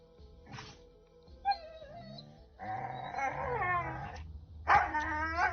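Several dogs whimper, yip and make small barks at close range beneath a chair in a room, in irregular overlapping bursts that grow louder toward the end, with no talk over them.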